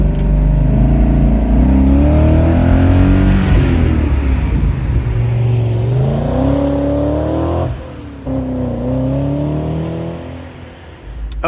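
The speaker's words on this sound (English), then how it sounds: "you really have that beautiful, beautiful exhaust tone that you'd expect from a V8" A BMW Z8 with a V8 engine revving through its exhaust, a loud, close, deep burble that climbs and falls in pitch across several rises, dipping briefly near the end, with no talk.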